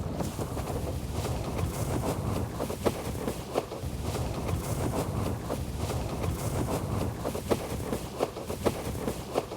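Gusty wind while windsurfing on open water, a steady roaring rush with buffeting wind noise on the microphone and faint splashing, continuous for about ten seconds with no talking.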